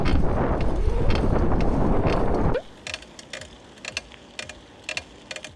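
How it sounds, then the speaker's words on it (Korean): Wind buffets a DJI Osmo Action 5 Pro with wind-noise reduction off, a loud rushing roar for the first half that cuts out abruptly, leaving faint, irregular ticks and creaks from the bicycle. "윈드 노이즈 기능을 껐을 때는 바람 소리와 이 자전거 삐그덕삐그덕 소리가 함께 나죠."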